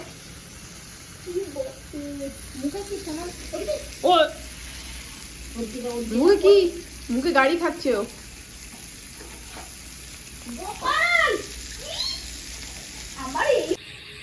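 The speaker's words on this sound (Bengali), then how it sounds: "তোমার জন্য আগে একটা চিকেন ভাজা হচ্ছে দেখো" Chicken fries in a pan at home, a low steady sizzle running underneath while people talk intermittently over it.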